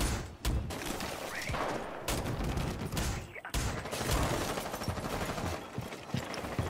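Dense rapid gunfire rattles through a Rainbow Six Siege match on the Castle map, a continuous loud fusillade of pellet shots from Havana with brief gaps between bursts.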